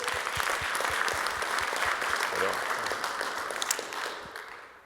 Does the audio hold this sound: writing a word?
no